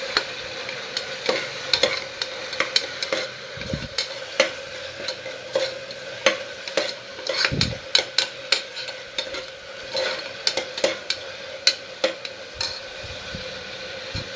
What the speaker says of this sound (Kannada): ಸ್ವಲ್ಪ ಚೆನ್ನಾಗಿ ಫ್ರೈ ಮಾಡ್ಕೊಳ್ಳಿ ಎಣ್ಣೆಯಲ್ಲಿ.